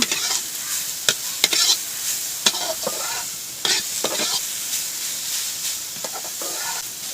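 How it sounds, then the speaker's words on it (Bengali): Grated carrots fry in a pan for carrot laddu while being stirred, giving a constant hissing sizzle broken by frequent scraping strokes of the spoon, close and fairly loud. "এবার গাজরটা দিয়ে ভালো করে কিন্তু নেড়ে চেড়ে নেব।"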